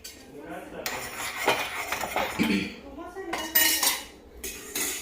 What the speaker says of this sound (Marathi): तर चला आता असंच आपण दुसरा पण पॅनमध्ये टाकून घेऊ पुन्हा थोडस तेल ॲड करून घ्यायचं